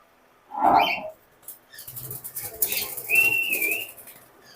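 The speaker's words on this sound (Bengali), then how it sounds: "এইখানে আছে একজোড়া সাদা কোকাটেল" A pair of white cockatiels in a breeding cage with a nest box. A short burst of close wing flapping and rustling comes first, then scattered cage rustles and one clear, drawn-out whistled call, with no talking.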